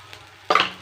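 Ivy gourd with turmeric, chilli powder and salt sautéing in a pan, a quiet lull giving way to a sudden bright sizzle and stirring burst that fades within a fraction of a second.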